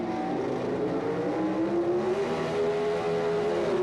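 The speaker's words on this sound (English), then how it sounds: "Manarino was almost sound asleep as Lombardo left the starting line" Drag race cars at the 1978 NHRA Summernationals, including an American Motors entry, roar off the starting line, a loud sustained engine howl with rising pitch as they accelerate away.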